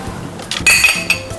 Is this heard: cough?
no